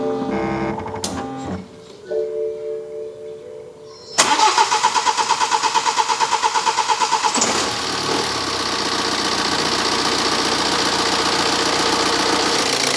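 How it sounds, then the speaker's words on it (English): A BMW diesel engine with a rough-running start-up fault, on a battery reading about 11.5 volts, clicks and whirs through a few stalled attempts, then cranks rapidly for several seconds before catching and settling into a steady, close idle. "engine finally fired into life. Even after bleeding the system, it still wanted to crank for quite a while"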